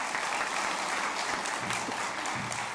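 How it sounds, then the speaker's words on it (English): At a Gandhi sesquicentennial event at Asia Society, an audience gives a founder a big round of applause, heard as a full, even wall of clapping that stays steady throughout. "let's give him a big round of applause"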